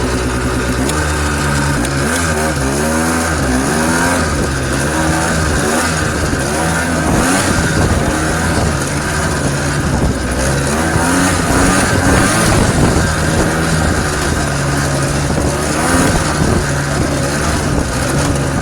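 A 1980s Odyssey off-road vehicle's small engine revs hard at full throttle for the whole stretch, loud and close, its pitch wavering as it climbs and drops over rough whoops.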